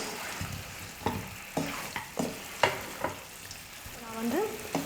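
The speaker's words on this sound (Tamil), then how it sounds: "2 நிமிஷம் நல்லா வதக்கிக்கிட்டேன்" Pepper chicken sautés in a pan over a medium flame, giving a steady close sizzle with repeated scraping stirs. A voice is faint in the background.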